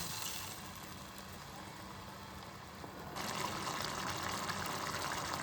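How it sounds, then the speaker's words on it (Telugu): Water pours steadily into a pan of bitter gourd (kakarakaya) masala curry simmering with chilli powder and tamarind juice, a continuous close trickle that grows into a fuller gush partway through. "కొంచెం వాటర్ యాడ్ చేయాలి."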